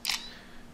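A BlackBerry Z10 phone camera shutter fires once, a short crisp click near the start that fades quickly into quiet room tone.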